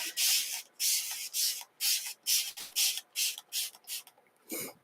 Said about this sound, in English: So all we're going to do is spray it down.